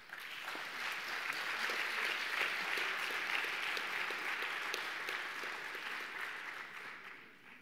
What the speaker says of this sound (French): Madame, Monsieur, nous vous en félicitons par nos applaudissements